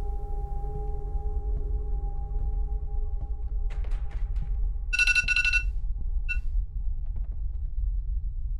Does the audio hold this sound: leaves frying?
no